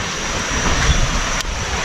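A small clear stream fed by a natural spring flows close by in a forested mountain setting, giving a loud, continuous rushing wash with some wind noise.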